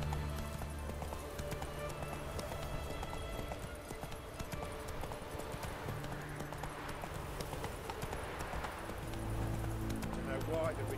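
Roach the horse gallops in The Witcher 3 video game, a steady rhythmic clip-clop of hooves running throughout, with a voice speaking over the hoofbeats.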